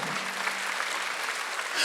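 A church congregation claps during a Sunday worship service, a short burst of soft, steady applause heard alone.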